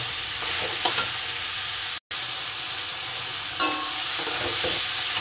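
Ash gourd sautéing with salt and turmeric, a continuous close sizzle with a few light spatula scrapes and clinks, broken by a brief cut, steady and without voices.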